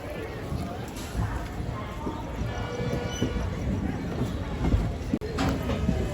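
Passenger train pulling out of the Vijayawada platform, a loud continuous rolling rumble with rhythmic wheel clatter heard from aboard, overlaid by someone talking.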